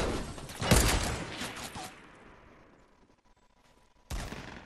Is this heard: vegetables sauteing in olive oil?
no